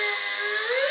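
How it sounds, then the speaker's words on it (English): A thin belt sander works a stainless steel sculpture, giving a high, steady whine with a rising pitch near the end, brief and close with no voices. "Belt sander."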